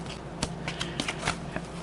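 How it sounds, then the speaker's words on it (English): Reinforced glassine paper bags are handled in crisp, papery rustles with several sharp crinkles and rubs, close and fairly loud over a steady low hum, with no talk. "Glassine bags that I reinforced."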